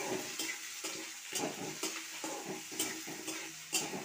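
Two medium chopped onions frying in a pan with tempered spices, a steady crackling sizzle broken by repeated scraping stirs at a quick, uneven rhythm, close and alone.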